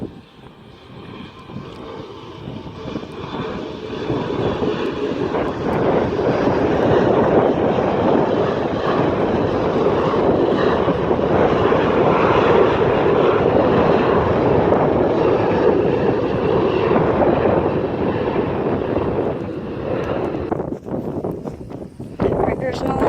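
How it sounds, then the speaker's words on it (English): A Delta airliner takes off at Springfield-Branson National Airport. Its jet engines swell into a broad, steady roar that holds for many seconds and then slowly fades, heard from a distance outdoors. "Delta taking off."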